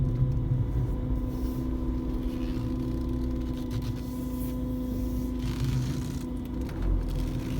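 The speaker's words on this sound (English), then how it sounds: "That sounds like what I'm hearing is an electric fan, like a radiator fan." A steady mechanical whir with a constant low hum and faint tonal whine from an Audi A3's electric radiator fan running continuously nearby.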